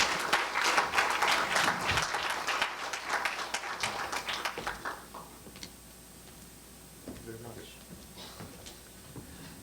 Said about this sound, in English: Let's give him another round of big applause, please.